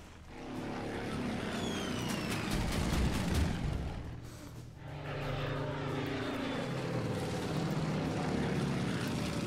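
Propeller aircraft engine drone from a World War II torpedo bomber attacking ships in the Pacific strategy game, a loud steady roar with a brief dip midway, set over a layer of water and battle noise.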